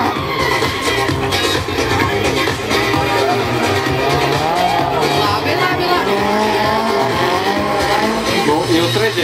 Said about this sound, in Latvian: Jūs redzēt, kā viņam iedegās tās riepas, jā?